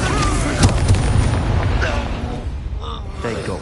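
A fiery Incendio spell blast in the Hogwarts Legacy video game, a loud booming burst followed by a rumbling roar that fades, heard close.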